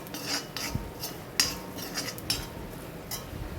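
Asafoetida powder is stirred in oil for a dried tamarind pickle, a metal spoon scraping and clinking against the pan in sharp, scattered taps over a quiet background.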